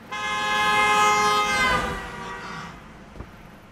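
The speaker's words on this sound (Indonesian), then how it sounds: "muncul sebuah mobil yang membunyikan klakson dengan lantang" A car horn blares loudly in one long sustained honk, rich and harmonic, holding for over two seconds before cutting off, followed by brief quiet and a small knock.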